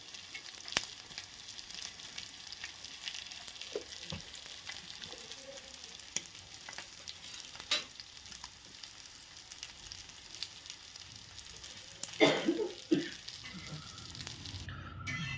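Spicy fish pieces fry in a pan with a steady, quiet sizzle throughout. Occasional clinks and scrapes of turning the pieces rise above it, and a louder spatter comes near the end.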